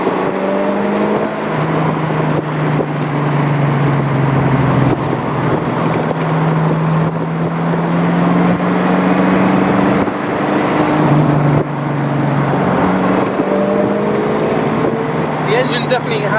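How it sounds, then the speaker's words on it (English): A Chevrolet 350 V8, factory-standard from around the 1970s, runs in an AK427 Cobra replica on a windy day, giving a steady, loud low rumble that swells and dips in pitch as it revs, with a voice talking over it. "this is a standard Chevrolet 350 engine as it was out of factory back in maybe the 70s"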